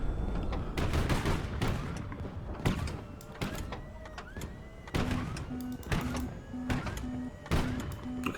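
Proximity-fuse gunfire in the Highfleet naval combat game: dense bursts of sharp blasts come in clusters, with mechanical whirs and a repeating electronic beep in the second half.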